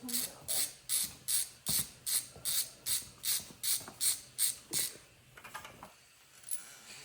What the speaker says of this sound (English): We'll take all the spark plugs out while we're at it.